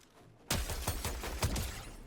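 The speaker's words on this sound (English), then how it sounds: "Big shots on the scoped AR from Shark." Scoped assault rifle firing in Fortnite, a sudden loud start followed by a quick run of five or six close, punchy shots in steady rhythm, with no talking.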